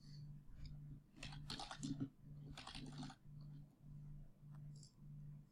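Steady clicking keystrokes from a computer keyboard as a short text message is typed, in bursts near the mic over a low steady background hum.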